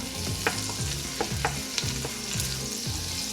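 Shallots sautéing in butter and a little oil over medium heat sizzle steadily, with repeated spatula strokes scraping the pan; no voices.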